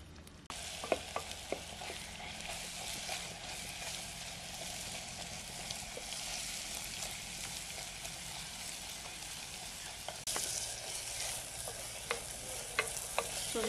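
Chillies and spices fry for a kantola curry in milk, a steady close sizzle with scraping stirs and occasional sharp clinks against the pan, continuous and fairly quiet with no talk.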